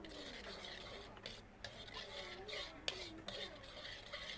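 Quiet, repeated scraping of a spoon stirring fish curry in a pot, in short rhythmic strokes with faint speech-like sounds around them.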